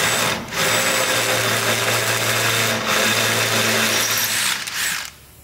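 A power drill with a 9.5mm bit bores a hole during an aluminium boat build, whining steadily at close range in two long runs separated by brief pauses before it winds down.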